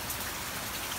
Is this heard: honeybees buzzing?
no